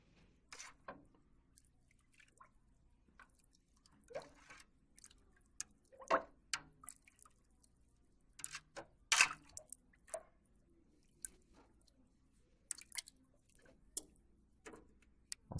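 A spoon stirs milk curds in a pot while Camembert is being made, giving soft, scattered liquid drips and clinks at irregular intervals, quiet and close with near silence between them.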